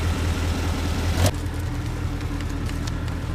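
A car engine runs steadily at idle, a low continuous rumble with a brief rising rev partway through, no talking.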